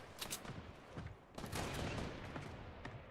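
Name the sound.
three-round burst gunfire in video game Fortnite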